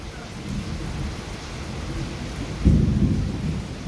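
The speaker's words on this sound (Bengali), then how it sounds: "আর এদিকে বৃষ্টি শুরু হয়ে গেছে" Steady rain falls with a low roll of thunder rumbling in partway through, fairly close and heavy, no talking over it.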